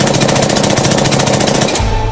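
A rapid burst of gunfire sound effect, a loud, fast, evenly spaced rattle of shots that cuts off abruptly near the end, leaving a low rumble.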